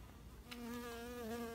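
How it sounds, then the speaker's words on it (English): A bee buzzes close by outdoors with a steady, droning hum that starts after a brief quieter moment and holds on, sounding loud and near with no talking over it. "Look at the bee."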